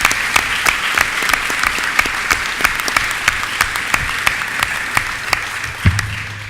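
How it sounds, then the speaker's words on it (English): Sustained round of applause from an audience at a government announcement on Long Island coastal resiliency, dense steady clapping with sharper individual claps standing out throughout. "Give him a round of applause."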